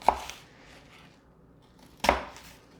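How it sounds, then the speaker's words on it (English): Knife cutting straight down through a mango into strips on a cutting board, two sharp close chops separated by a quiet pause. "you'll slice it kind of in strips, just straight down"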